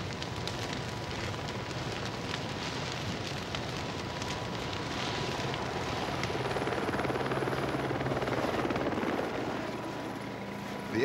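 An air ambulance helicopter's rotor thumps and whines steadily, loud and close overhead, growing slightly louder, with no speech.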